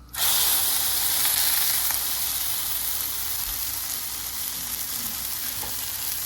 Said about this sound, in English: While it's searing in the pan